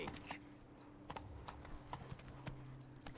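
Roach, Geralt's horse in The Witcher game, clip-clops along with steady rhythmic hoof beats, close and clear over a continuous low background hum.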